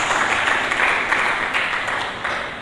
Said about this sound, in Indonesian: Mari kita berikan tepuk tangan yang meriah bagi Yesus Kristus.